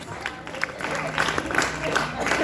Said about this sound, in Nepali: ताली कम हुन भएन है,